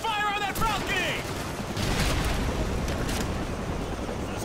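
Battlefield gunfire in Call of Duty 4 during an assault on a building with a balcony, a dense, continuous crackle of rifle and machine-gun fire with distant booms, heard mid-distance alongside radio chatter.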